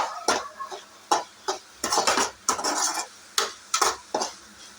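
Manathakkali greens poriyal being stirred in a pan, a close series of quick scraping and clinking spoon strokes over a faint sizzle, with no talking.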